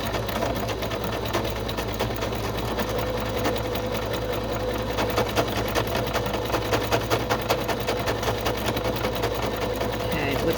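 A sewing machine stitching a soft fabric junk journal cover runs steadily and close for about ten seconds, a continuous mechanical whir with rapid rhythmic needle ticks.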